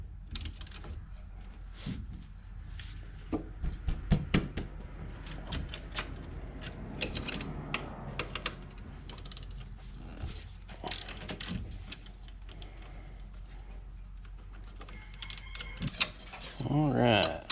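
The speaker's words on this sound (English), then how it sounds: "Now I got to get a 10 millimeter socket." Ratchet with a 10 millimeter socket working loose the brake caliper bolts on a Coleman AT125UT ATV, giving repeated mechanical clicks and clatters in bursts, fairly close, over a steady background hum.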